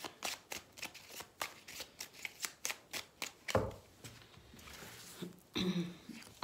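Tarot cards are shuffled by hand in rapid riffling bursts, a quick run of crisp papery snaps followed by slower shuffles and taps, close and fairly quiet, with no talk.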